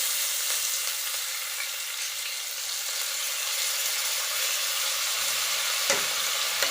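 Steady, loud sizzling of onions frying in hot oil, a continuous crackling hiss with a brief clatter near the end.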